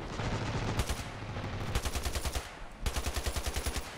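Automatic rifle fire in the battle simulator game Ravenfield, heard as rapid bursts of close, loud, evenly spaced shots with short pauses between bursts.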